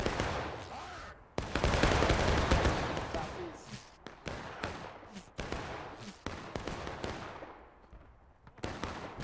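Musket volleys crackle through a War of Rights battle in the East Woods, with repeated broadband shots and overlapping bursts at varying distances, from close loud cracks to farther reports, and a voice talks faintly beneath the firing.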